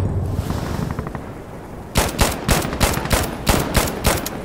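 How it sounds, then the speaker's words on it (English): Rapid shotgun blasts in Insurgency Sandstorm, roughly nine loud sharp shots in quick succession after a quieter stretch, near and punchy. "That's a shotgun."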